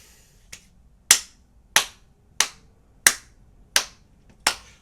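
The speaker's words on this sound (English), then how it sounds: "I mean, I'm clapping now." Seven sharp hand claps from one person, spaced about two-thirds of a second apart, the first softer than the rest, each crisp and close with a quick decay, alone in a quiet room.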